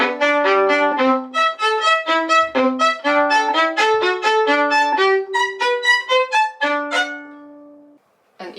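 A solo violin plays a string crossing exercise that begins on an upbow, with quick, evenly spaced notes moving back and forth between strings. The pattern stays clear and close for about eight seconds, then stops.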